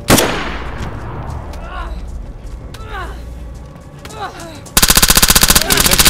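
Gunfire in the DayZ video game opens with a sharp shot, then quieter ambience with chirping calls, and ends with a loud, rapid machine-gun burst close by.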